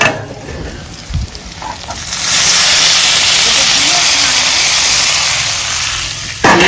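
Tomato goes into onions already frying in a pan for a Bengali rohu fish and cauliflower curry. A loud, steady steam-hiss sizzle swells up and holds close and strong, with some movement and faint talk before it.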